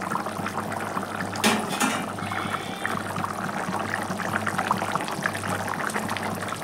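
Megrol fish curry being poured from the cooking pot, a steady, fairly quiet liquid trickle and slosh over a low background hum, with a brief louder splash early on.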